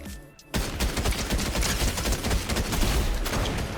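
Sustained rapid gunfire from a Fortnite reload weapon, loud and continuous after a brief quiet start, with close, dense bursts of shots running to the end.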